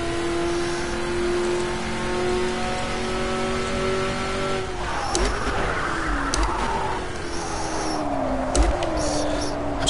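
Ford Mk IV race car in Project CARS, its engine note dropping from a steady high drone as the tyres lock under heavy braking, with scrubbing noise and a few downshift blips, loud and continuous throughout.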